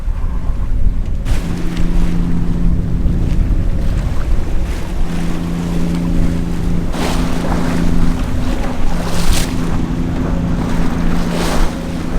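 A sailboat under sail off the English coast near Old Harry's Rocks, heading toward a beam reach, with steady wind buffeting the microphone, water rushing and waves slapping the hull throughout.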